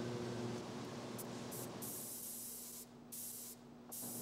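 Close, loud hiss of a spray nozzle spraying paint onto a mural in a few sustained bursts, briefly pausing and resuming.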